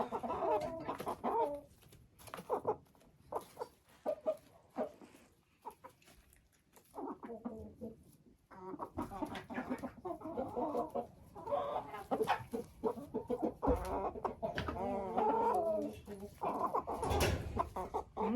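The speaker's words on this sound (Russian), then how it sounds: "пока старые куры не покушают, молодых не подпускают" Hens cluck and squawk continuously while feeding on a grain mix in a poultry yard, a dense mix of close calls and pecking with brief quieter stretches.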